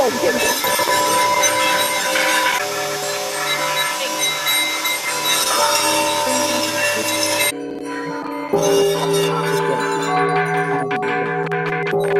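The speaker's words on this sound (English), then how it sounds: "Ring your bell for people." Bells ring out together for a Peace Day event, a loud, sustained wash of overlapping metallic tones that shifts abruptly midway, with voices faintly mixed in.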